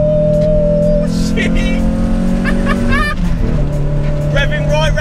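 The RS2000 engine of a Ford Escort van is revved hard toward 6,000 RPM, a loud sustained engine roar heard from inside the cab with rising and falling pitch, while a voice comes through faintly.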